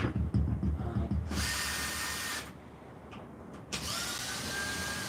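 A Makita cordless impact wrench runs in two close, loud bursts of whirring motor noise with a brief pause between them and a short click at the start of the second.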